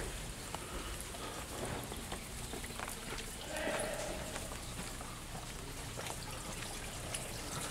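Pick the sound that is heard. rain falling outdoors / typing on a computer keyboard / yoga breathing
rain falling outdoors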